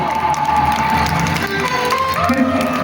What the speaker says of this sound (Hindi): कृपया जोरदार ताली बजाएं इस राष्ट्र के लिए